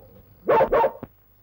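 A dog barks twice in quick succession close by, followed by a short yip, in a scene from an old Turkish film.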